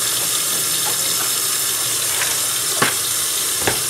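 Tap water runs steadily into a sink while canning beans are rinsed, a loud continuous splashing stream with a few brief clinks near the end.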